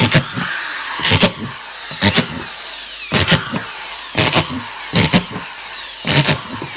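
A power drill bores holes through the top lid of a homemade worm farm bin, in short, loud whirring bursts repeated about once a second with brief pauses between.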